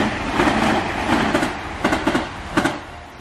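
A passenger train bound for Kameoka near Kyoto rolls along the rails with loud, close rhythmic clickety-clack bursts from the wheels over a continuous rumbling hum.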